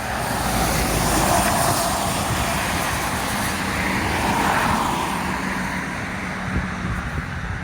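Road traffic streams past close by on a busy road, a continuous broadband roar with gentle swells as vehicles go by, no voices.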